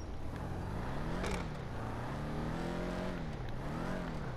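Vapid Dominator GTX muscle car in GTA V, its engine revving and exhaust rumbling continuously, pitch rising and falling through acceleration with a sharp rev spike early on, loud and close throughout.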